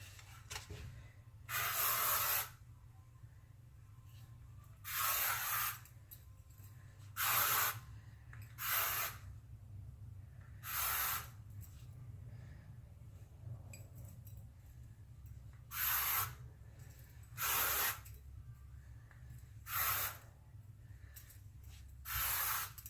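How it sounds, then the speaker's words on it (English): Short bursts of hissing hairspray from an aerosol can repeat at irregular intervals, each lasting about a second, over a low steady background hum. "now I shall spray with my Euro finish."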